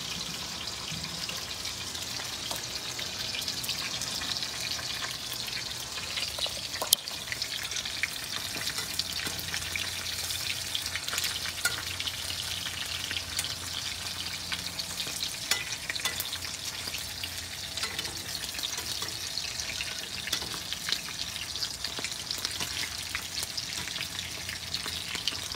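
Tuyo, a dried fish, fries in a pan with a constant crackling sizzle and bright spattering pops. The frying is close and steady, with no voices.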